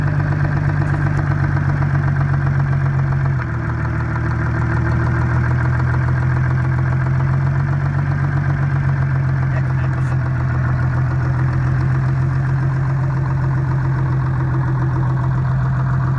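A sawmill engine runs steadily at close range with a constant droning hum, idling evenly throughout with a slight dip in tone early on.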